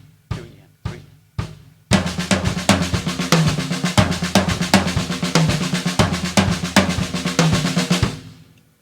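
A drum fill in steady sixteenth notes with accents placed on the toms, opened by three separate hits before a continuous run of strokes that ends with a ringing decay.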